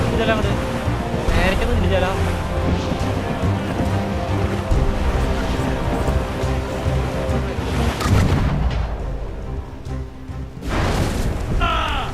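Ship cannon fire in the video game Assassin's Creed Rogue, repeated heavy booming blasts over ocean waves and wind, loud and close, with shouted crew voices in between.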